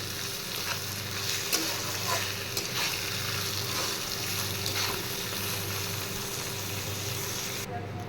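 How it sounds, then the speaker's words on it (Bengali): Washed Gobindobhog rice frying with onions in a pan, a steady close sizzle with scattered crackles and stirring scrapes, and faint voices in the background. "এইবার আমি ধুয়ে রাখা গোবিন্দভোগ চালগুলো দিয়ে দেব চাল একটু ভেজে নেব"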